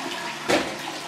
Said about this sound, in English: hit the flush